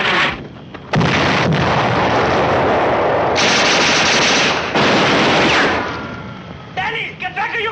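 Machine guns rattle in a 1951 war film battle, with long loud bursts of rapid fire broken by short gaps, and artillery booms mixed in.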